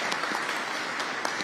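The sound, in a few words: audience applause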